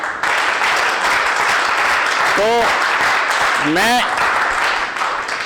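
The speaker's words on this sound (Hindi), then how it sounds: "ताली ताली से शुरू करवा दो" Audience applause at an addiction recovery program, a steady broadband wash of clapping filling the clip while a voice speaks briefly over it.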